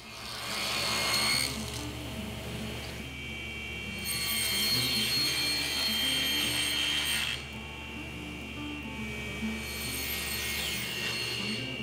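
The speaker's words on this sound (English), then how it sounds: "Now I'm using the table saw to make a rabbet joint in the bottom of the tops." Table saw running through a rabbet joint cut in the underside of small wooden table tops, a steady close motor drone with louder bright whining passes as the blade bites into the wood.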